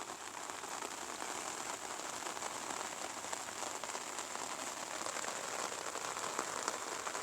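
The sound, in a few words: rain falling on rice fields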